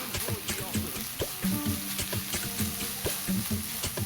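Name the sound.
minced onions and green onions frying in oil in wok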